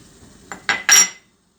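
Crushed garlic being stirred into yogurt: a metal spoon clinks three times against a bowl in quick succession, each tap louder than the last, then silence.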